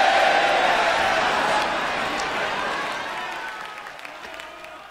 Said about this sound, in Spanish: Las idols se inclinan mientras la multitud aplaude.